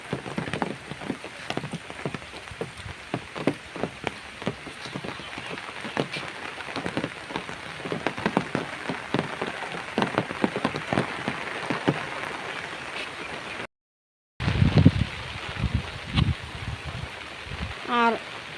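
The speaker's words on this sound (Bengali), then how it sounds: "আর ছাতার উপরে বৃষ্টির শব্দ শুনতেও কিন্তু অনেক ভালো লাগছে।" Rain drumming on an umbrella in a village during a rainy day, dense close patter of drops throughout, with a short break and a few louder splats near the end.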